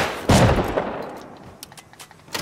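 A shotgun trap fires in the online survival game Rust, a loud close blast followed by a decaying rumble and scattered fainter gunshots afterward, with no talking.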